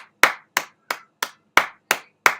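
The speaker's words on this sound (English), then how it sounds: "There's a clap" Seven single, sharp hand claps spaced at an even, deliberate rhythm, close and crisp with silence between each, spoken by one man during a live stream.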